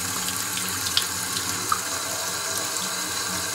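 Tap water runs steadily into a sink while copper gear is rinsed, a continuous close splashing hiss with a couple of faint clinks.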